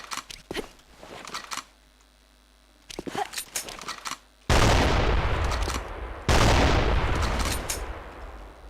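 Gunfire in a competitive team video game match, with sharp shots and then two long, loud bursts of sustained firing, preceded by excited commentators talking.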